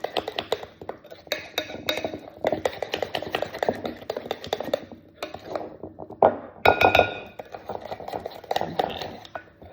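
A spoon stirring meatloaf mixture in a bowl, busy repeated clinking and scraping against the bowl in a kitchen, with some louder clinks partway through.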